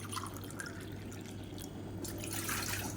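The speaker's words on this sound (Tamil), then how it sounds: "இப்போ வந்து ஒரு சாஸ் பேன் எடுத்துக்கலாம் இதில் வந்து தண்ணி சேர்த்துக்கலாம்" Water poured into a saucepan makes faint, soft splashing and trickling, with brief louder gushes in short bursts against a quiet kitchen background.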